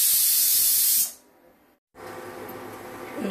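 A pressure cooker on a kitchen stove vents steam in a loud, steady hiss that cuts off abruptly, falls silent briefly, then resumes as a softer continuous hiss.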